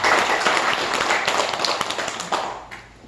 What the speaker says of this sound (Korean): 애터미. 박수 한번 주세요.